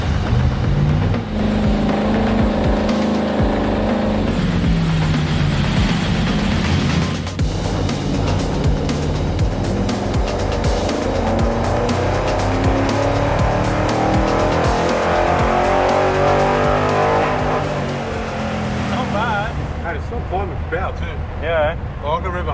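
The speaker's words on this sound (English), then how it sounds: "The boys have already got our V Commodore Project Ute on the dyno" A V Commodore project ute revs hard on a dyno, its engine roaring loud and sustained with rising and falling pitch throughout, up close, while voices talk over it.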